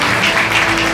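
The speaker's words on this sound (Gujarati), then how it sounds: "તાળીઓથી વધાવતા રહીશું આપણે." Audience applause greets a student called to the stage at a Leuva Patel community get-together and cultural programme in Ahmedabad, a dense, steady wash of clapping filling the whole second.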